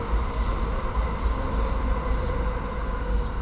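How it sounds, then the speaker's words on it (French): A train rumbles past steadily nearby, a continuous low roar of wheels and rails with faint higher squeals. "Voilà, le train qui passe."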